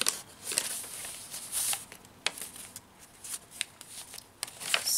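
A paper bag being handled while a vintage travel-themed junk journal is assembled, with close, crisp crinkles and rustles in irregular bursts and brief quieter gaps, heard without talking.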